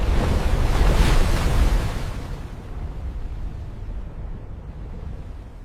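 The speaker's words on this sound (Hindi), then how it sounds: "समुद्र उफान पर है।" Sea waves surging as a doomsday sound effect, a deep continuous roaring wash that swells loud at first and then eases into a steadier, slightly softer rumble, with no voices.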